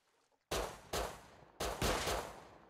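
Gunshots in a video game ring out as three loud, close reports, each with a short, trailing echo, against near silence.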